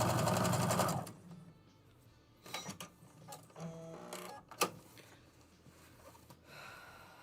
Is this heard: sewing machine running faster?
yes